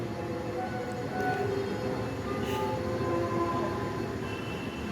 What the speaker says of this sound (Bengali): তারপরে হালকা একটু ট্রেনের একটা আওয়াজ আসছে